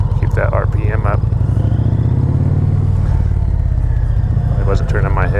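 A 2020 Indian Challenger motorcycle engine runs with a deep, steady rumble close by, rising slightly in pitch, while someone talks over it.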